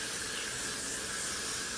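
Steady, close hiss of an aerosol spray, constant and even for about two seconds with no breaks and no talking.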